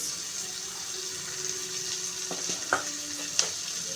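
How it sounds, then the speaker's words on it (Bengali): Spices fry in a pan for a koi fish curry, a faint sizzle running underneath, with a couple of light utensil clinks and scrapes toward the end; quiet and close, no talking. "কাঁচা মশলাটা একটু ভেজে নিলে ভালো হয়"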